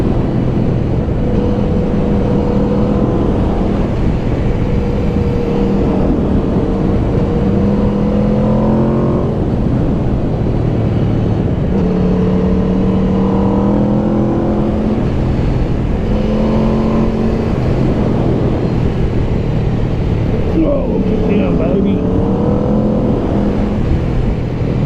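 An Aprilia RSV4 motorcycle is ridden hard through a run of bends. The engine note rises and falls through repeated revving surges and gear changes, loud and close throughout, with wind roar underneath and no talking.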